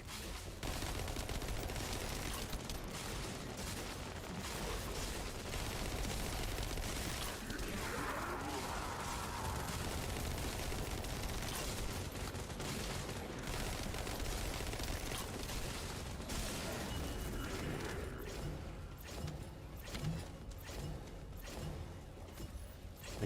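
Dense, continuous gunfire and explosive bursts fill a combat scene in the shooter game The First Descendant, loud and unbroken throughout, with a voice talking briefly underneath.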